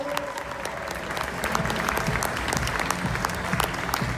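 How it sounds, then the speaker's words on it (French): An indoor audience at an E-Trophée Andros 2020 driver presentation gives steady, dense applause and cheering to welcome a driver, close and continuous throughout, with a faint voice underneath. "un peu de bruit s'il vous plaît pour Nathanaël"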